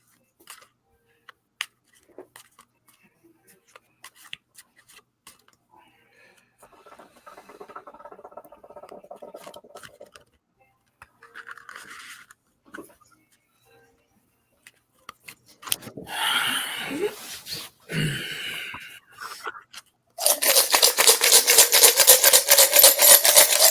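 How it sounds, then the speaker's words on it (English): Oracle cards rustling and patting as they are shuffled, soft scattered taps and slides at first, then a sustained loud riffling burst near the end. "let me get a good shuffle in here"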